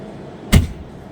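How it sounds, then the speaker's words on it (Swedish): A car door slammed shut from outside, a single sharp thud that stands alone against quiet background noise. "Men stäng igen dörren utifrån."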